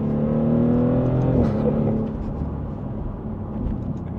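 A combustion-engine Maserati GranTurismo Trofeo accelerates with a loud, droning engine note that swells, then eases into a lower, rougher whir of steady driving.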